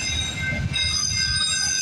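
A CP freight train rolls past at night near Guelph Line on the Galt Subdivision, wheels squealing in sustained high-pitched tones over a steady, loud rumble of railcars.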